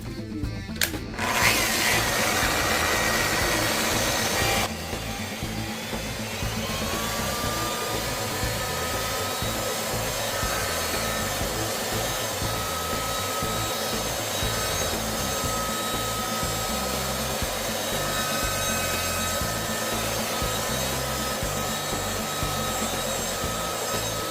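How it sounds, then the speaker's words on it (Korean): A polishing machine buffs a car body after sanding during repair of minor collision damage, giving a steady loud motor whine with rubbing texture that runs almost unbroken for about twenty seconds after a brief louder opening. "폴리싱으로 작업을 합니다."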